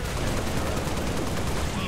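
Enemy gunfire in Halo Reach, a dense, loud, continuous barrage of rapid shots filling the whole moment with no pause.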